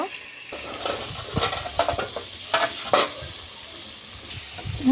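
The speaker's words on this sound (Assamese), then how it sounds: "আদা ভাজি হৈ গ'ল" Ginger frying in mustard oil in a pan, a soft close sizzle broken by scraping stirs and light clinks of the spatula against the metal.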